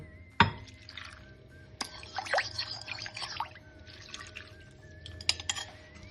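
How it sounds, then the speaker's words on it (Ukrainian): A vinegar marinade is poured over sliced onion half-rings in a glass bowl, giving soft intermittent splashes and trickles with a few sharp clinks of glass, close and quiet, with no talk. "Далі заливаємо маринадом нарізану півкільцями цибулю."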